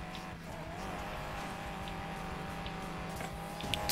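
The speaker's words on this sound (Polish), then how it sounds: "Co to jedzie? Koenigsegg, no oczywiście." A Koenigsegg races in the Need For Speed Payback video game, its engine a steady, sustained roar with faint tire squeal throughout and a brief rise at the end.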